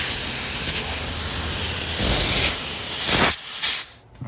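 Pressurised nitrogen rushes through the refrigerant lines of a new Carrier 10-ton split air-conditioning system with a faulty solenoid, a loud steady hiss that swells, then cuts off abruptly near the end.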